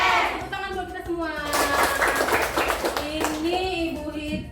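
Schoolchildren in an Indonesian classroom clap together with their teacher in a brief burst of hand-clapping, mixed with children's voices and a sung melody carrying through it.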